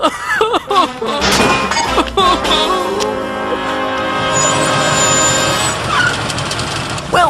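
Cartoon car crash into another car on a driving test, with a sharp smash and crunching impacts followed by a lingering metallic ring and engine hum, with voices speaking over the start.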